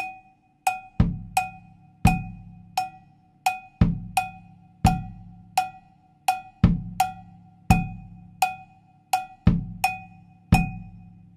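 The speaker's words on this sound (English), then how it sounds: "you do have the option of playing the full bass drum tumbao" Cowbell keeps a steady cha-cha-cha pulse while the full bass drum tumbao adds two soft kicks per bar, a close, clean and evenly repeating pattern with no talking.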